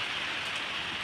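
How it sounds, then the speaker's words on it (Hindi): Heavy rain pours down in a steady, dense hiss, loud and unbroken throughout with no voices. "कितनी बारिश हो रही है"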